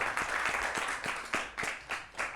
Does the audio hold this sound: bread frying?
no